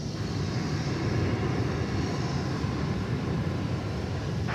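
An American Airlines airliner, flight 1159, departs DFW Airport. Its engines make a steady broadband roar that holds loud and even throughout, with no voices over it.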